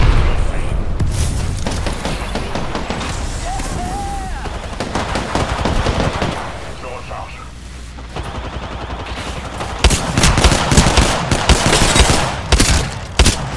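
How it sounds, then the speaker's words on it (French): Apex Legends firefight with bursts of rapid gunfire and booming grenade blasts, loud and close, broken by a quieter stretch midway, with a voice talking over parts of it. "Je lance une grenade frappe. Mange cette grenade."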